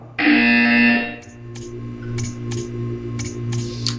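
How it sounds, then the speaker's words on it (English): A loud, flat electronic buzzer from a Portal 2 test chamber sounds for about a second, followed by soft rhythmic clicking and ticking machinery in the background. "You will hear a buzzer. When you hear the buzzer, stare at the art."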